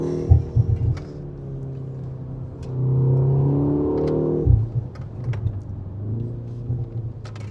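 A BMW M135 (F70) engine revs up and accelerates, with brief dips in pitch where the gears change, sustained and fairly close.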